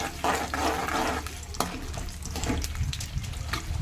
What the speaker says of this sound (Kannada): ನಂತರ ಉದ್ದಿನಬೇಳೆ, ಕಡಲೆಬೇಳೆ, ಇದು ಗೋಲ್ಡನ್ ಬ್ರೌನ್ ಬರೋವರೆಗೂ ಫ್ರೈ ಮಾಡ್ಕೊಬೇಕು ಫ್ರೆಂಡ್ಸ್.